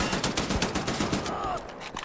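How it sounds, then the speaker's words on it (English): Machine gun fire in Wolfenstein: The New Order, a rapid, dense burst of shots lasting the whole moment with steady, loud rattling and faint background tones. "we're gonna have to use the machine gun here because we're having more ammo for machine gun than the pistols"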